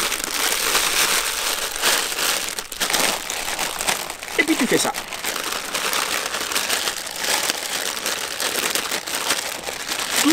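A plastic bag crinkles and rustles around a foam air filter being soaked in motor oil, with continuous crackling handling noise throughout as someone talks over it.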